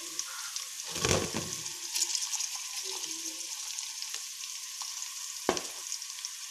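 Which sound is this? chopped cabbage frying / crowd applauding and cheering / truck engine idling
chopped cabbage frying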